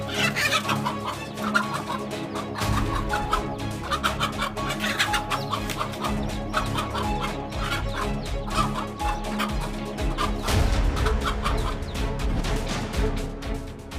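A mother hen clucks steadily while guarding her chicks from a predator. The insistent clucking runs close and loud throughout, mixed with other fowl and busy background noise, and nobody speaks.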